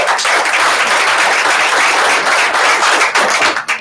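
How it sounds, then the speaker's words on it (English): Loud, dense applause fills a sales-meeting room, with many people clapping steadily and nonstop until it tapers slightly at the end. "Let's give her a round of applause"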